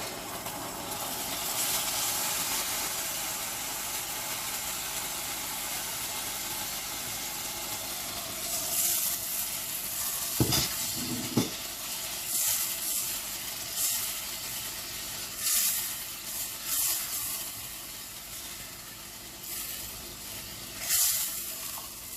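Soft onions and tomato puree fry together in a pan for home-made butter chicken, a low steady sizzle and hiss with intermittent scraping and mixing bursts, fairly quiet and close.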